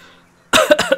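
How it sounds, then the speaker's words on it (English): A single sharp, loud sneeze-like burst right up close, with a short choppy tail after a quiet lead-in. "Oh, sorry, I gotta sneeze."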